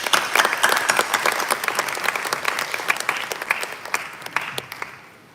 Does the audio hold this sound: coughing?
no